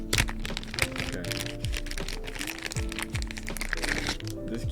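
Plastic packaging of a keyboard keycap puller crinkling and crackling close up as it is opened, with irregular clicks and rustles and a brief voice mixed in.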